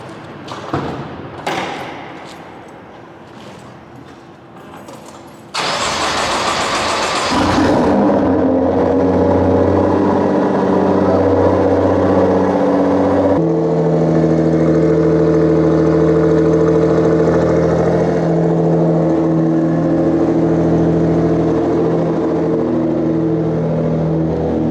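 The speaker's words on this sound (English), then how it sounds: "I'm gonna get a quick little cold start for you guys." Nissan GTR engine cold-starting on E85 fuel, with a sharp crank and catch into a loud, steady high idle that keeps droning evenly for the rest of the clip.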